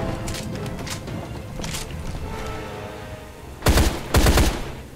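Gunfire in Deadfall Adventures: a few faint bursts early over a low rumbling background, then two louder, close shots in quick succession near the end.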